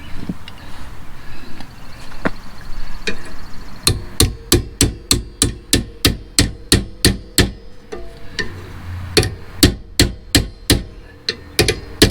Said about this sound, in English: then I'll tap it in with the hammer here